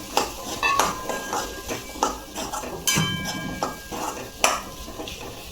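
Chickpeas and dry spices being stirred in a cooking pan, with a spoon clattering against the metal in repeated scrapes and knocks, close and moderately loud.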